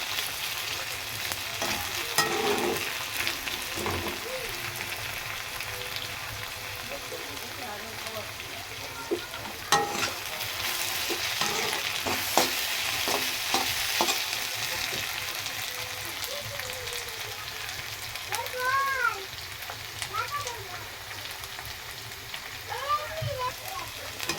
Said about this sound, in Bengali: একটু আদা রসুনটা দিয়ে দিয়েছি, হালকা করে একটু ভালো ভাজা হবে